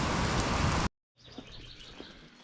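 Rain falls outdoors on a farm after a dry spell, a dense steady hiss that cuts off abruptly, then returns as softer patter with faint bird chirps.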